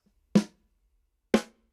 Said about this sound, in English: I'm gonna drop a towel right on the snare and it'll sound like this.